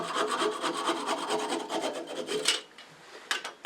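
Sanding the bottom of a turned cherry wood bud vase: a close, dry rhythmic rasping scrub in quick repeated strokes, then a short pause and a few final rubs.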